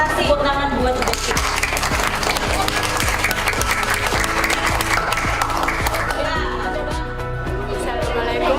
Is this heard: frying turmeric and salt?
no